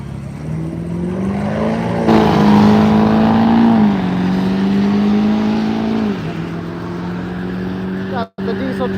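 A truck and a Mustang drag race at a Miles of Mayhem event, a loud sustained engine roar with rising revs and gear shifts that holds for several seconds before fading, heard close.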